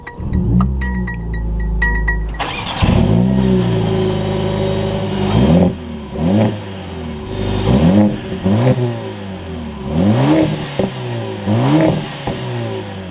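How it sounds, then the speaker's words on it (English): A 2021 Mercedes-AMG CLA 45 Coupe engine starts with a loud crank and catch, then settles into idle before a series of sharp, repeated revs that swell and fall back, heard close and clear. "keeping my foot on the brake, we can go ahead and fire it up"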